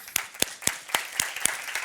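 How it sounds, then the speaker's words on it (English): At a festival, sparse hand claps ring out in a steady rhythm, about seven sharp and fairly close claps in under two seconds against a quiet room. "Another round of applause."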